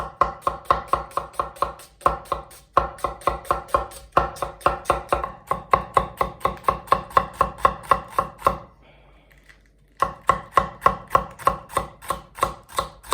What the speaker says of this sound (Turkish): Soğanları böyle piyazlık doğrayacağım.